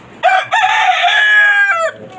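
A full-grown white tiger-breed rooster, about seven or eight months old, on a rooftop chicken farm gives one loud, close crow, a short opening note followed by a long drawn-out call.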